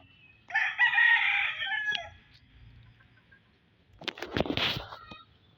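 A gamecock kept for cockfighting crows once, loud and close, in a long drawn-out call; a few seconds later it is followed by a burst of rougher, clucking farmyard noise.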